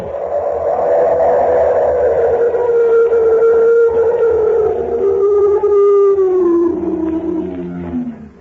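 A long, loud animal roar meant as an abominable snowman in an old-time radio drama, a sustained howling cry that bends downward in pitch over about eight seconds, close and alone without talk.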